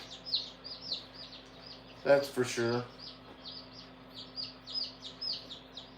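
A crowded brooder of newly arrived baby chicks keeps up a steady chorus of high, rapid peeping, with a brief burst of people talking in the middle over the constant chirping.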